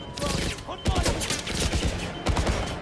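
Missile launch and weapon fire in the 007 First Light video game, a dense barrage of sharp blasts and bursts filling the clip at close range with a brief voice underneath.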